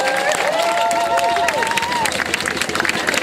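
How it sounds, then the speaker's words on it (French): A crowd applauds steadily with clapping and some cheering, loud and continuous throughout, with a high whistle-like tone rising above the noise early on. "je vous invite à applaudir très, très fort nos acteurs et comédiennes autochtones"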